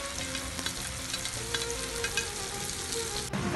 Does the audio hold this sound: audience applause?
no